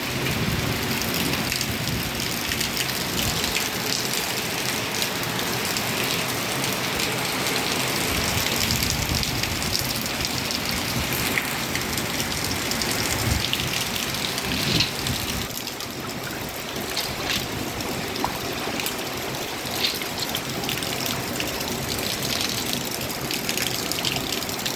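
Lentils being washed under running water, a loud, continuous rushing gush that keeps up without pause for the whole stretch, close by, with no voices.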